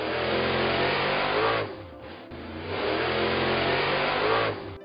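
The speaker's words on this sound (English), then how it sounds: "Monster car." A monster car engine revs hard twice, loud and close, with a brief dip between the surges as the roar falls and climbs again, alone without talk.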